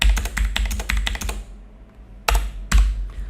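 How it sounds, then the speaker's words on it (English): Keystrokes on a computer keyboard while entering network settings during a Windows Server Active Directory setup: a quick run of close, crisp taps, a short pause, then two more isolated key presses. "So I'll type in that over here."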